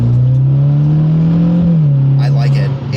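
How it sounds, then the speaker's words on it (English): A Subaru WRX GT's Cobb aftermarket exhaust holds a deep, steady drone, rising slightly in a brief rev before settling, loud and close. "that Cobb exhaust sounds really good"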